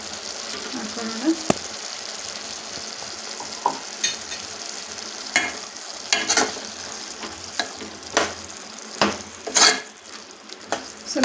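Sambar masala for a village-style snake gourd sambar fries in a pan while being stirred, with a constant sizzle broken by sharp spoon scrapes and knocks at irregular intervals.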